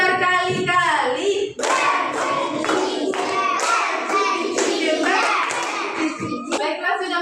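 Children clap their hands several times in a classroom counting game, rhythmic bursts of claps that alternate with a voice speaking between them.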